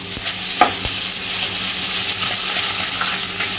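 Onion with ginger garlic paste sautés in a pan, a steady bright sizzle with a few soft stirring scrapes, close and loud with no talking.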